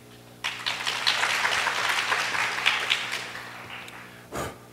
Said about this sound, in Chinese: 那我们掌声欢迎 Andy。